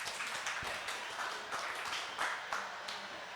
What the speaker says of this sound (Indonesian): Tepuk tangan untuk Bang Rizal.